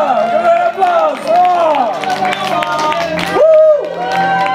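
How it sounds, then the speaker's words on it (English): A costume contest crowd cheers and claps, with whoops and raised voices rising over continuous clapping and babble throughout. "Give it an applause!"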